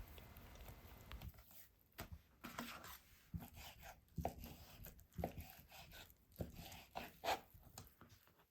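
A knife slices through smoked salmon on a board, producing a series of soft, irregular taps and light cutting strokes, close and quiet, with faint background hiss.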